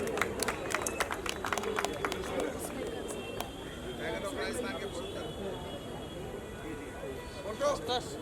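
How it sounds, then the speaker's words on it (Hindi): An audience at a seminar on railway jobs claps loudly for honoured guests, a dense burst of sharp hand claps that thins after a few seconds while a voice keeps talking over the noisy hall. "जोरदार तालियां होनी चाहिए."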